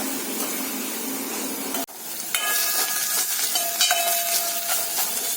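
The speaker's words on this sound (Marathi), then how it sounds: "आणि हा किसून ठेवलेला कांदा आहे ना तो टाकायचा. चांगला तेलामध्ये परतून घ्यायचा." Grated onion sautéing in hot oil for a spicy chana soup, a steady close hiss and sizzle that cuts out briefly, then returns fuller with stirring scrapes and a few tonal clinks.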